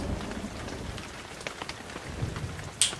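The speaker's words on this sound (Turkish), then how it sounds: "Yağmurun sesini duyuyor musunuz?" Soft, steady rain patters on a surface, with scattered drops and a brief sharper tap near the end.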